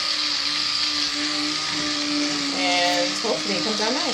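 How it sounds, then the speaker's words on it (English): An electric blender whirs loudly and steadily while mixing a batch of mint soap, its motor pitch shifting near the end as a person talks over it. "I was saying while this blender was going, which might have been too loud"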